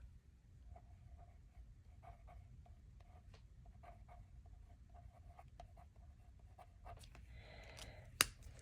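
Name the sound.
pen writing a signature on a card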